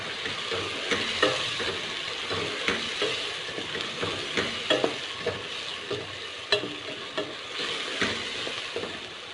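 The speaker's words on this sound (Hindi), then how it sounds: "टमाटर को भी हम सौते कर लेते हैं अच्छी तरह।" Tomatoes sauté in a pan for achari bhindi, a steady close sizzle with repeated scrapes and clacks of a stirring spoon throughout, no voices.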